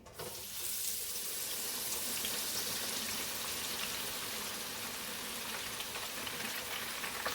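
Continuous hissing and bubbling of turkey wings deep frying in oil at 350 degrees, a steady wash of sizzle with no voices.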